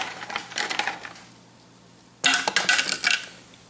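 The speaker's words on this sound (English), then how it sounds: "now let's put the ice in there" Ice cubes tumble into a blender jar holding water, two clattering bursts of hard rattling clinks separated by a short quiet gap, close and distinct.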